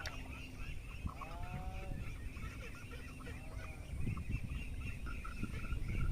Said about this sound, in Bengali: হাঁসের জোড়া জোড়া করে যাচ্ছে